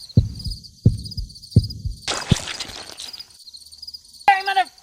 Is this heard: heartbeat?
yes